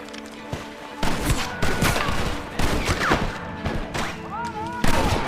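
Gunfight in the Red Dead Redemption video game: rapid repeated gunshots and booming blasts crack out in bursts over several seconds, with shouted voices mixed among the fire.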